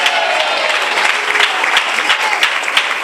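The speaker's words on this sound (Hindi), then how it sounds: "जोरदार तालियां हमारे" A church congregation breaks into loud, sustained applause, a dense wash of many hands clapping at once with faint voices mixed in, filling the whole space.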